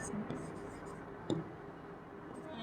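A pen scratches faintly on paper while math equations are written out, with soft, quiet strokes and a brief sharper tap in a hushed room.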